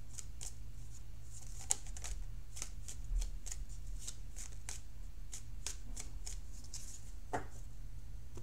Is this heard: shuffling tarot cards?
yes